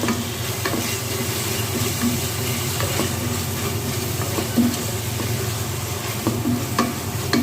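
Chicken keema with salt and spices being stirred in a pan over a medium flame, a constant loud sizzle broken by repeated scraping strokes of the spoon.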